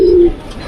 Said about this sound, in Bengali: শিয়ালকুটির একটা কবুতর, বাচ্চা কবুতর, শিয়ালকুটি বংশের।